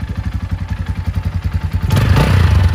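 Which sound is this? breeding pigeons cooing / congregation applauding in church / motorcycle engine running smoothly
motorcycle engine running smoothly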